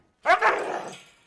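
A leash-reactive, aggressive dog lets out one loud, harsh bark close by. The bark has a sharp onset and a ringing tone, then trails off over about a second, with no talk over it.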